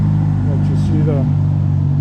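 A 2022 Ferrari Roma's twin-turbo engine idles close by in a steady low hum, while someone talks over it.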